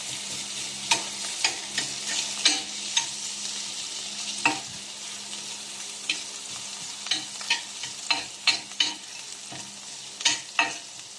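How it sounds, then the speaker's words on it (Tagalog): Ginger sizzles in hot cooking oil under a steady frying hiss, broken by a series of sharp stirring scrapes and clinks at close range, with no talk. "mainit na yung mantika natin. Ilalagay na po natin yung luya."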